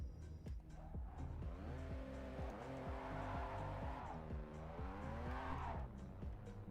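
A car in a JDM driving video game with a droning engine whose pitch rises and falls, over a steady tire screech from braking and skidding, close and continuous throughout.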